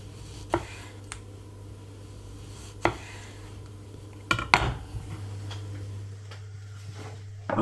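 Knife slicing tomatoes thinly on a board, a few sharp separate knocks and cuts spread over several seconds, close by, over a low steady hum.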